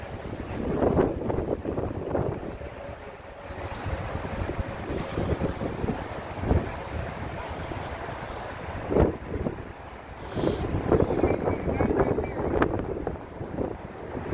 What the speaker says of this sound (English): We got a western wind going into the east.